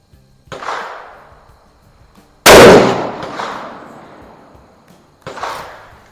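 Three sharp shots from a Savage Axis rifle in .308 Winchester crack outdoors, a few seconds apart, each trailing off in a short echo. The middle shot is the loudest, and no voices are heard.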